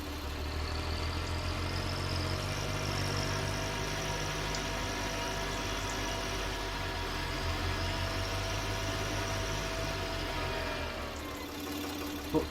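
A farm tractor engine idles steadily in a continuous low rumble with a faint high whine, holding an even level throughout with no talk.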